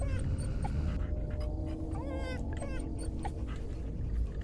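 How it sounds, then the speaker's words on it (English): A puppy in the indie horror video game Fears to Fathom whimpers with high, wavering whines and soft panting, repeated several times over a noisy, continuous low background. "It's a puppy!"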